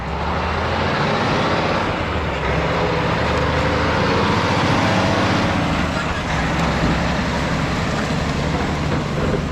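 A truck engine revs loudly and drives across a wet harvested corn field in Illinois, a heavy, continuous rumble that stays close and strong throughout, with voices faintly underneath.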